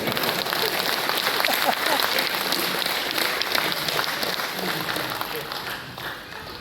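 An audience at a Hindi comedy poetry gathering claps in a long, dense round that stays strong, then gradually tapers off near the end, with some voices beneath.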